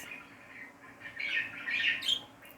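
Pet birds chirp in quick, bright bursts, faint at first and then louder near the middle and end, over quiet indoor background noise.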